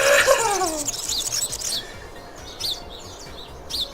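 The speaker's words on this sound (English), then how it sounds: "They probably had a boom mic recording bird sounds" Birds chirp and tweet in a visual novel game, with a brighter burst of calls at the start and then scattered short chirps over quiet background noise.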